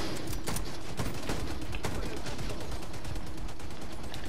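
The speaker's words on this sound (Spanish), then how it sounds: "Cuidado, tienes una torreta" Turret gunfire in Tom Clancy's The Division 2, a continuous rattling stream of rapid shots with sharper cracks at intervals, loud and dense throughout.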